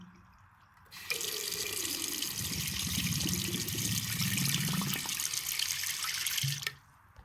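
Water from a tap running into a sink and draining down into the pipe of a partly blocked drain, a steady rushing stream that starts abruptly and stops, with gurgling low in the flow.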